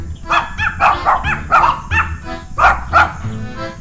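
Several dogs bark in a rapid, uneven series of close, loud yips and woofs at a rural home in Thailand, with a young puppy among them, with no talk over the barking.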